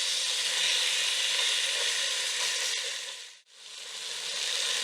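Fish for Senegalese thieboudienne fries in a hot pan just after being flipped, giving a steady, close broadband sizzle that dips briefly before resuming at full strength.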